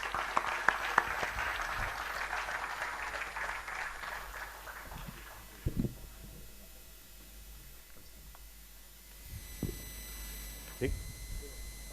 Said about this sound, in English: please bring your hands together to welcome Mr. Sarup Mohanty to the dais